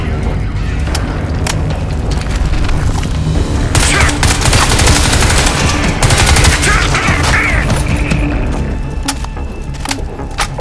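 Gunfire and explosions from the video game Crysis, a loud, dense barrage of rapid shots with booming blasts and rumbling underneath throughout the scene.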